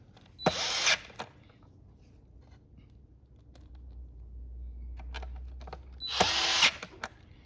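A power drill drives screws back in while a Minn Kota Powerdrive i-Pilot Spot Lock kit is fitted to a trolling motor. There are two short, close whirring bursts several seconds apart, with near silence between them.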